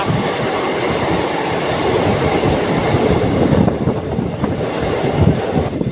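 A train rumbles loudly and continuously through a tunnel with clattering wheels, the roar enclosed and echoing, no voices.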